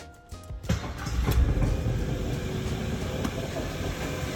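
A car engine, just repaired and not yet topped up with coolant, fires up after a brief crank and settles into a steady, moderately loud idle, heard close with no talking.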